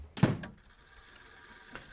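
A cellar door in The Cat Lady opens with a sharp creaking thud, followed by a faint second knock and a soft click near the end against quiet background.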